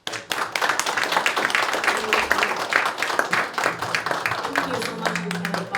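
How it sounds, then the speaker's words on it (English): Audience applause at the Hmong American Center grand opening, with dense, continuous clapping from a crowd over the full stretch and voices mixed in beneath it. "Please give him another round of applause"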